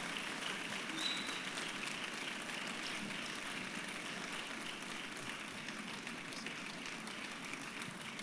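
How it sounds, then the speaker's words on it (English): Congregation clapping at a church service, a soft, continuous patter of many hands heard from a distance, steady and faint throughout. "Clap, clap, clap. It's good. You can clap."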